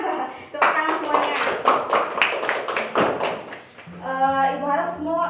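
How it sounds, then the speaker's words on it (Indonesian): Students in a classroom break into a round of brisk applause that lasts a few seconds, close and fairly loud, and then a teacher's voice continues speaking. "Tepuk tangan semuanya."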